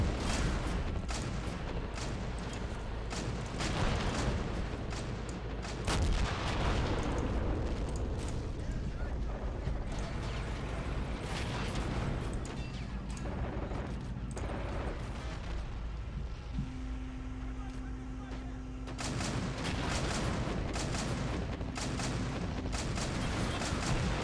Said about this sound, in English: That artillery is probably the best thing in the game